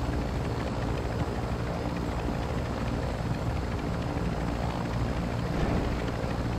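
Aircraft engine in a multiplayer shooter video game: a steady, dense droning roar that holds constant and loud throughout, with no voices over it.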